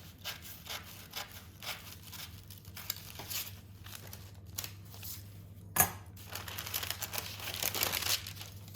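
Knife cutting through heritage sourdough dough, soft repeated scraping and crinkling strokes with one sharper tap midway, close and quiet with no talk.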